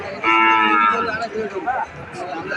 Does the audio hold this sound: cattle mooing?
yes